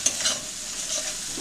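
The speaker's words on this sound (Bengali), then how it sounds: "কাশ্মীরি লঙ্কা গুঁড়ো 2 চামচ, ভালো করে নেড়ে নিচ্ছি।" Kashmiri chili powder being stirred into a frying curry, a soft scrape and stir over a faint steady sizzle, close and fairly quiet, with no voices.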